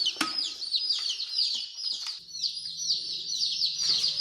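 Barred Rock and Cream Legbar chicks chirp loudly and continuously in an echoey indoor brooder, a dense overlapping chorus of high peeps with a low hum underneath.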